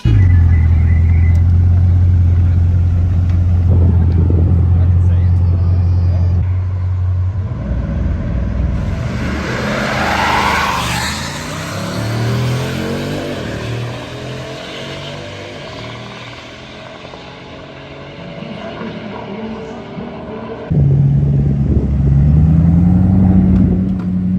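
Cars rumble at the line in a drag race between a Bugatti Divo and a Tesla Plaid, then one roars off accelerating hard, engine pitch climbing through gears as it fades, before a loud idling engine returns.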